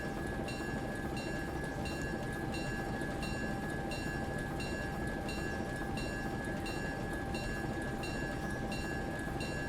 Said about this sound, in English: This coal train does not like slowing down, it just wants to roll.